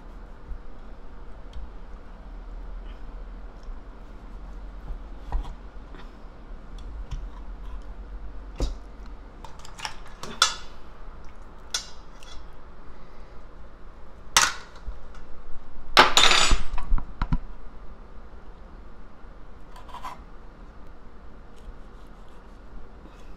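Raw abalone sliced on the bias with a knife, sparse sharp clicks and taps of the blade against the board scattered over a quiet background, with a denser cluster of cuts midway.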